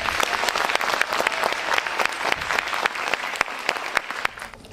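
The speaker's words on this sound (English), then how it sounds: "Can we give them a round of applause?" Audience clapping at a high school holiday instrumental concert, a dense, loud burst of applause sustained for several seconds before tapering off near the end.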